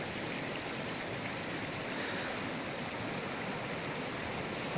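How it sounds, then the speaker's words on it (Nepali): A mountain river in the Syangja hills of Nepal rushes in a constant, even roar of flowing water, heard at a steady, fairly soft level with no other sounds. "सानोतिनो खोला त होइन यो पनि, हजुरबालाई बगाइदिएको खोला हो है।"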